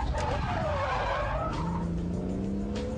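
A car drifting with the front wheels locked under the foot brake, tires skidding and squealing loudly over a revving engine, the screech sliding in pitch across the whole stretch with no talk.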